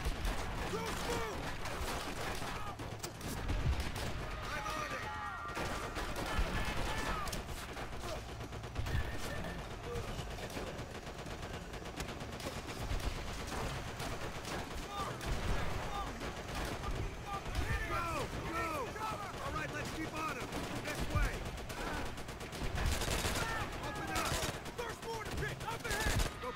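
Machine gun fire and a chaotic battle in Call of Duty: World at War, with dense bursts of gunfire and explosions continuing throughout under a loud music score and shouted soldier voices.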